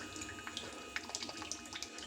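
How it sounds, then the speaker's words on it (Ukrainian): Water flows steadily from a portable battery-powered shower, a soft continuous splashing stream with small spatters, close and fairly quiet, no voices. "пішла вода."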